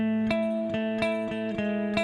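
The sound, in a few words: Sterling Majesty guitar clean tone, middle pickup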